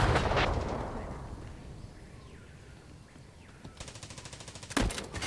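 Video game gunfire: a loud burst at the start, then quieter ambience, then rapid automatic fire near the end with a sharp louder shot, no talking.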